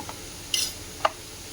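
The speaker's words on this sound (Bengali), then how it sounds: "এটাকে ভালো করে মিশিয়ে এটা একটু নাড়াচাড়া করে নেব" A spoon scrapes through dry, lightly oiled food mixed with chilli, coriander, cumin powder and chaat masala in a pan, giving two short, close scraping strokes over quiet background.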